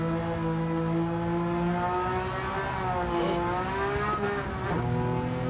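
Race car in Gran Turismo 7 carrying speed through the final corner, a loud sustained engine drone with shifting pitch and a brief dip as revs change, no voices.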